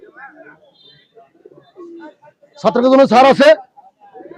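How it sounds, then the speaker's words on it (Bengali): Pigeon coos at a busy pigeon market in Khalishpur, Khulna, where Teddy pigeon chicks are sold: a short loud burst of cooing up close, with quieter bird sounds and market chatter around it. "টেডি কবুতরের বাচ্চা"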